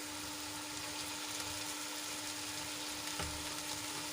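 Mung beans are tipped into softened onion, potato and tomato frying in a pan, bringing a constant close sizzle with a brief soft knock partway through.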